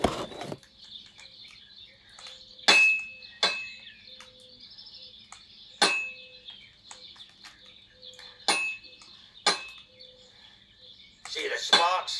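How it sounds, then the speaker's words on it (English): In the Kingdom Come Deliverance 2 game, a hammer strikes a sword on an anvil in a forge. About six sharp metallic clangs ring out a few seconds apart, each with a brief bright ring, over a quiet background. "Now take the hammer and try hitting it a few times."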